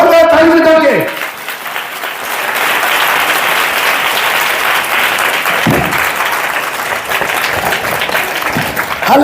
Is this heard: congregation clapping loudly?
yes